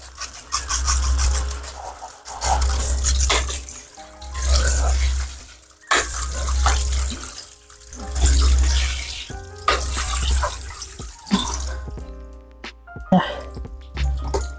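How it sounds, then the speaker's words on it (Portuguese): Water from a faucet or shower runs in repeated surges as a German Spitz dog is wetted during a bath, loud and close with scrubbing noises, and a person talking now and then. "Vou molhar um pouco mais, porque ainda tá seco."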